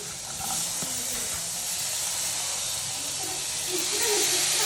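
Onion pieces sizzle in hot oil in a home kitchen while pani puri filling is prepared, a loud, steady frying hiss that fills the whole stretch with no talk over it.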